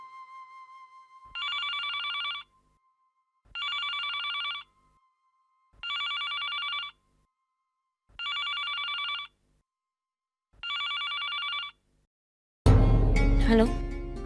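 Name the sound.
telephone ringing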